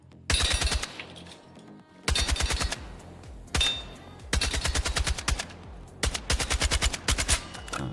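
Automatic gunfire in the video game Battlefield 6, sounding as several loud, rapid bursts of shots with short pauses between them, no talking over it.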